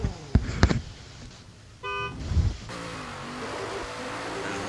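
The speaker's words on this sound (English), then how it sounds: "There's one honk." A single car horn honk rings out for about a second at a drift competition, preceded by scattered thumps and crowd noise and followed by a steady engine rumble.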